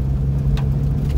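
A car's engine drones loudly and close on a muddy rally-style track, holding a steady low rumble through a brief moment with no speech.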